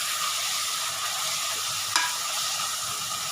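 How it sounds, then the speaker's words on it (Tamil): Onions frying in a pan for beef tahari, a close, steady hiss of sizzling oil with a spoon stirring and scraping through it, one brief sharper clink midway, no voices. "வெங்காயம் நல்லா பொரியிட்டோம்"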